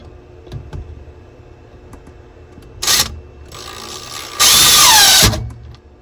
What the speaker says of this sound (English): I'm sure no one wants to listen to me drill or even watch me drill